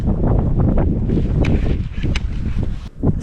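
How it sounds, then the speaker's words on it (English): Strong storm wind gusting at 50 to 60 mph on a cliffside mountain camp during a snowstorm, roaring and buffeting loudly against the microphone in uneven surges beside a truck camper. "The storm is still coming in. Gusts are still 50 to 60 miles per hour."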